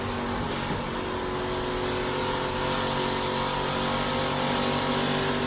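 Race trucks at speed at Homestead-Miami Speedway make a constant, loud engine roar that fills the whole stretch, with no voices over it.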